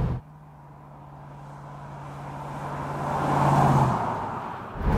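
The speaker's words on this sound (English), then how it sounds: "All the lovely, big, throaty V8 noises" A Jensen Interceptor V8 engine with a steady deep drone that swells louder as it builds, then cuts off near the end, heard alone with no talk.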